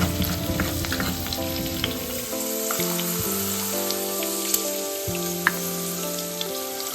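Okra for a Sri Lankan curry fries in hot oil with a dense, steady sizzle and crackle, a few sharp pops standing out, while background music plays underneath.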